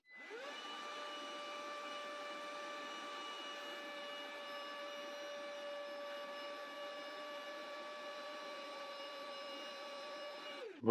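Carrefour cordless wet and dry vacuum cleaner with a clogged filter running in one steady, even whine for about ten seconds before switching off.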